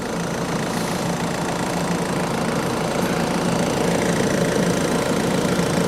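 A Ford Focus Mk3 1.5 TDCi diesel idles with its air conditioning compressor running on a hydrocarbon R134a replacement, giving a steady, even, close mechanical drone throughout.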